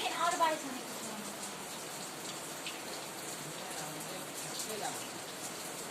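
Soft, steady patter of rain falling outdoors during the rainy season, a continuous hiss with scattered drops, heard faintly behind a brief spoken word.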